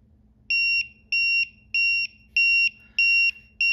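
A TickTime Pomodoro timer alarm sounds six sharp, evenly spaced electronic beeps, each about a third of a second long, loud and close over a faint background hum.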